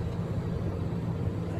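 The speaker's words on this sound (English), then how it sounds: "I'm on the plane." Airplane cabin noise: a steady low rumbling drone with broadband hiss, constant and fairly loud throughout, no voices present.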